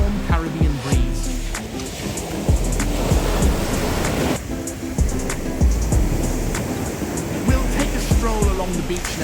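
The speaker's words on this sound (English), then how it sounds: "You'll hear the waves crashing and feel that warm Caribbean breeze." Caribbean waves at Rockley Beach, Barbados, break and wash against the shore at high tide in a rough, rolling roar, with wind buffeting the microphone.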